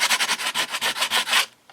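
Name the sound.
sanding soft wood plaque with sandpaper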